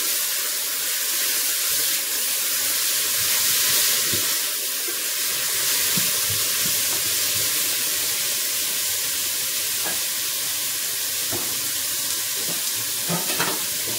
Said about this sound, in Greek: Και βάζουμε και τις πιπεριές φλωρίνης. Τα τσιγαρίζουμε μέχρι να μαλαθούν.